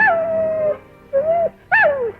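A dog howls loudly and close by in three drawn-out, wavering calls separated by short pauses, with no other sound around them.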